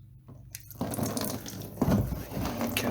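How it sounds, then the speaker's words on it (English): Coolant drains from a dirt bike's cooling system after an 8mm bolt is loosened at the bottom of the water pump, a close trickle that builds into a louder splashing flow into a container. "I go ahead and take this 8mm bolt loose right here at the bottom of the water pump, and this should drain the cooling system"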